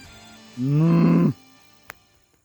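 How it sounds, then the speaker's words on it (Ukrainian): A single loud, drawn-out moo from a shaggy, long-haired cow, lasting under a second, with quiet outdoor background before and after, in the Czech countryside. "Дивіться, які волохаті корови."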